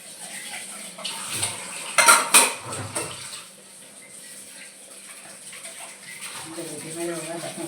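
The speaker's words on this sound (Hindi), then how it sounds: "मेरे हो गया बर्तन साफ।" Dishes, pots and cutlery clattering as they are washed under running water at a home sink, with sharp metallic clinks early on, then softer rinsing and splashing.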